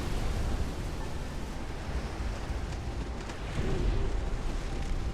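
Torpedo hits on a warship during a naval battle in Ultimate Admiral: Dreadnoughts come as a dense, continuous roaring rumble of explosions and spray, loud and unbroken throughout.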